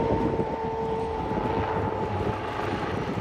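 Steady, loud Turkish Aerospace Industries T625 Gökbey helicopter engine drone with a dense rumbling roar and a faint whine, continuous throughout with no voices.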